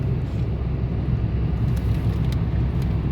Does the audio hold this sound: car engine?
yes